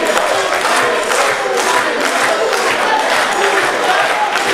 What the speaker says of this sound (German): das Publikum feuert hier auch gleich auf Anhieb Murat an